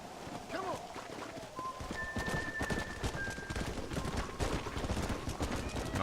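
Horse hooves clip-clop in Red Dead Redemption on Xbox One, a steady rhythmic trotting under game music tones and background noise, moderately loud and continuous throughout.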